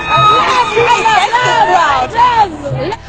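A large crowd chants a repeated refrain, loud overlapping voices rising and falling in a sung cadence that carries throughout.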